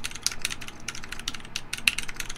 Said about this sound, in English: when I have the films off, it sounds more like when I'm typing like this